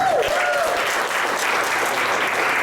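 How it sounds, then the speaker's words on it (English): A round of applause from an audience at a business presentation, dense steady clapping filling the whole moment at close range, with a brief tonal whistle-like sweep near the start. "Can you give yourself a round of applause, please?"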